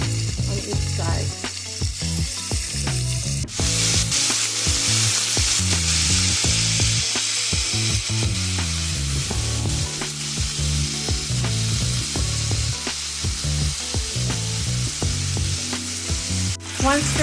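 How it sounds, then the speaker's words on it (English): Beef cubes browning in a hot pan give off a loud, dense, unbroken sizzle up close, with scattered spatters and a few clattering knocks as pieces are laid in and moved, and no one talks. "you want to go ahead and add your beef cubes in. And we're just going to brown them on each side."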